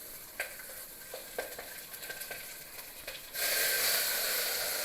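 Rice stirred and frying in a hot pan, soft scraping strokes and light sizzle at first, then a loud steady sizzle takes over near the end, with no voices.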